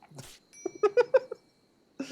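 Domestic cats meowing in a short series of about five quick, close mews, preceded by a brief muffled sound and followed by another call at the end.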